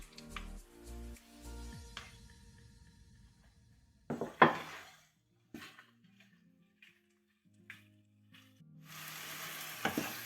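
Mushrooms and peppers sizzle and crackle in a hot pan, with intermittent scraping and clatter of a utensil stirring, and brief quiet gaps between bursts.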